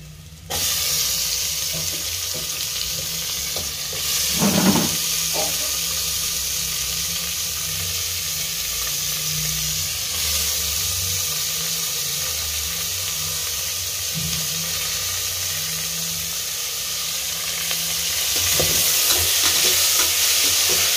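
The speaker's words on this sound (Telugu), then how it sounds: "కలర్ చేంజ్ అవుతుంది ఎర్రగడ్డ, అంతవరకు బాగా వేయించుకోవాలి నూనెలో." Onions and tomatoes fry in hot oil while being stirred, a steady sizzle running throughout with scraping stir strokes and a brief louder clatter near the start, close and fairly loud with no talking.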